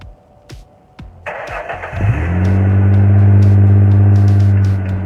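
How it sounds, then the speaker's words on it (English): Cold start of a stock V6 in a Ford Mustang: a few clicks and a brief starter crank, then the engine catches with a rising rev and settles into a loud, steady, close idle. "I'm going to give you a nice cold start to listen to"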